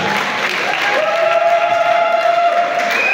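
An assembly audience at a communal council ceremony applauds and cheers steadily, with sustained clapping and a few held voices or whistles rising above it.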